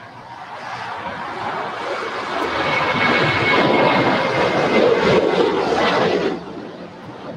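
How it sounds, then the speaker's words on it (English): A Korean Air Boeing 777-300ER jet airliner arriving from Seoul turns base for a north side landing at LAX, its broad engine roar steady and fairly close, swelling slightly and then easing off. "Korean Air Flight 9013 coming in from Seoul on a Boeing 777-300ER is now turning base for a north side arrival here at LAX"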